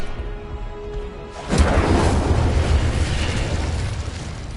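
An Incendiary fire spell explodes in a wizarding video game, a sudden loud whooshing burst that swells into a sustained roaring rumble over low game ambience.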